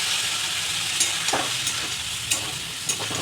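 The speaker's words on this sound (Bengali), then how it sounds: "এই মশলাটাকে ততক্ষণ পর্যন্ত কষাতে হবে যতক্ষণ না মশলাটা ভাজা ভাজা হয়ে মশলার থেকে জল কমে গিয়ে তেল ছাড়ে" Spice masala with turmeric fries in a pan, a dense, loud, continuous sizzle up close with a few light stirring scrapes, no talk.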